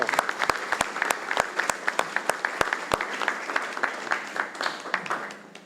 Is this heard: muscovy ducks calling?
no